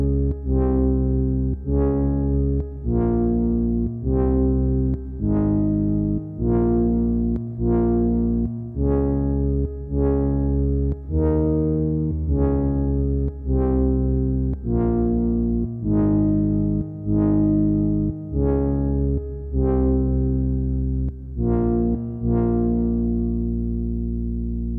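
Studiologic Sledge synthesizer plays a slow horror film sequence with heavy reverb, a steady series of about fifteen loud, rhythmic sustained chords pulsing evenly, with no voices.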